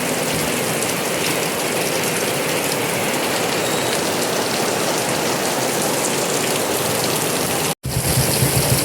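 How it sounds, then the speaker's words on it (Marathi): Heavy rain pours down in a loud, dense, unbroken hiss that stops for a brief instant near the end and then returns. "लय पाऊस आहे."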